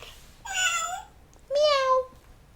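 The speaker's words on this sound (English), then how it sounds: "The cat meows and purrs." A cat meows twice, two clear drawn-out calls separated by a short pause, close and loud against a quiet background.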